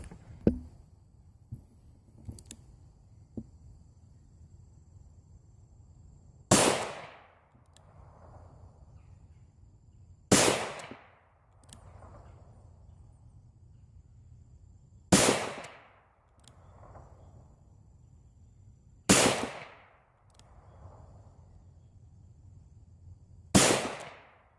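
Five sharp .357 pistol shots firing 130 grain hollow point loads with shotgun powder at 12 yards on an outdoor range, spaced several seconds apart, each a loud crack followed by a short decaying echo.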